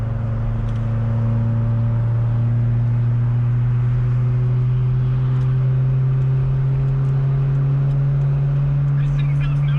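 A car engine drones loudly and steadily nearby with a strong low hum and a slowly rising pitch, building as it revs while the car drives, no voices heard.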